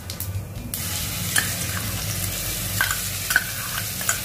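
Mustard seeds and crushed cumin sizzle in hot oil with smashed potatoes, a steady close fry hiss punctuated by soft scraping stir strokes and occasional small pops; no voices.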